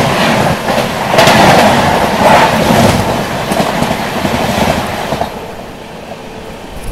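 The Chennai Express passenger train runs along the rails in heavy rain, a loud steady rumble with rhythmic clatter heard close from inside the carriage, easing slightly toward the end.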